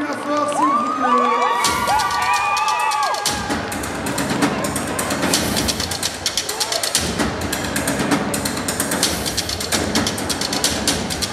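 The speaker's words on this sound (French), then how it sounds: "Et qu'on applaudit bien fort, s'il vous plaît." A convention crowd at a DconGeek contest cheers, whoops and shouts loudly with dense clapping, after a short stretch of amplified music and singing at the start; the noise is full and sustained throughout.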